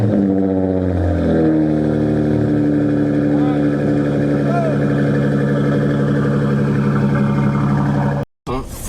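A car with 5-inch exhaust tips rumbles through a cold start, holding a loud steady low idle for about eight seconds before cutting off abruptly, with a person talking faintly over it.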